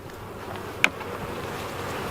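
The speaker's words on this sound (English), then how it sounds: "there's a lot of bee activity here" Honey bees buzz around an open hive during a first inspection after a cold Texas winter, a continuous close droning hum with one brief sharp click partway through.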